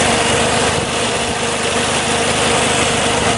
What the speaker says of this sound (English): You can hear the fan just kicked on after sitting here and idling